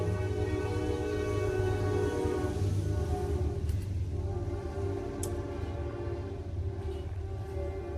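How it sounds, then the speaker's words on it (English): A train rumbles past nearby while its horn sounds a long, sustained blast, then slowly fades under the continuing rail noise. "Comes that train."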